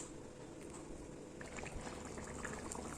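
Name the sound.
vegetable curry with water simmering in a pot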